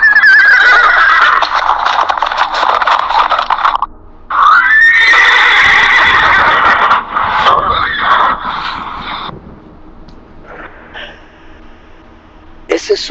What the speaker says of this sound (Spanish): clarísimo de un caballo relinchando y corriendo en el espacio del estacionamiento